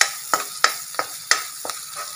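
Ginger and garlic being stirred in a pan for a Kerala-style prawn roast: about six crisp scraping strokes at an even pace over a quiet, low sizzle, close and moderately soft.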